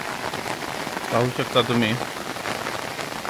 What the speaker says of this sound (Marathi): एक पाऊस चालू आहे मित्रांनो, पाहू शकता तुम्ही.